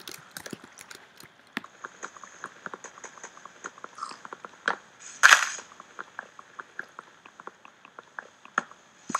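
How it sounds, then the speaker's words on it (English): Repeated blocky thuds of a tree being chopped down in Minecraft, a steady rhythm of quick, fairly faint hits with a brief louder burst partway through. "That is how you chop down a tree."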